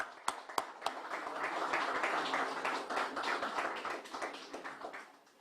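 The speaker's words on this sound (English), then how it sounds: "Let's give them another round of applause." A morning university gathering gives a round of applause, scattered claps that thicken into a soft, distant patter of the crowd before thinning out.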